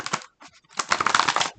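Tarot cards being shuffled give a brief, close, crisp flutter of riffling cards, with a short pause and then a longer burst, and no talk.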